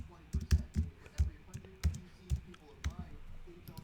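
Fingers type a password on a computer keyboard in quick, uneven clusters of light clicks, heard close up with a voice speaking briefly over the keystrokes.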